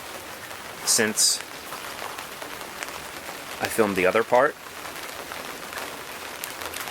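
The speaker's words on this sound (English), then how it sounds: "this is a very pleasant atmosphere to read in when there's just a mild rain" Mild rain falls in a steady soft patter throughout, close and even, while a person speaks briefly over it.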